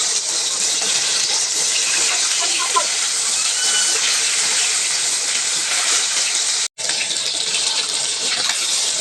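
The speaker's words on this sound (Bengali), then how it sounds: "মাছগুলোকে ভালো মতো উল্টে পাল্টে এপাশ ওপাশ খুব ভালো মতো ভেজে নিতে হবে।" Jhatka fish fries in a pan of oil with a loud, steady, bright sizzle that hisses without pause, broken only by one brief drop near the end.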